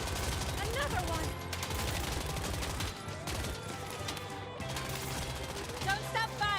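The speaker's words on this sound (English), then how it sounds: "Don't stop firing." Rapid gunfire rattles in the Ananta video game as shots are aimed at car tires, continuous bursts running under game music and voices.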